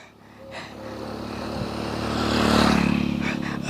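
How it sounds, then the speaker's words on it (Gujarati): A motorcycle passes on a village road, its engine rising from a low hum to a louder, closer drone before fading slightly, with faint background noise throughout. "બીજી મોટરસાયકલ ગયો"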